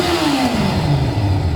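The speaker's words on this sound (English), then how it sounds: "Jake, give it a rev." A Kawasaki ZZR600 motorcycle engine, freshly cleaned with synchronized carbs, revs up loud and close, its pitch rising then easing back into a steady throb with no talking.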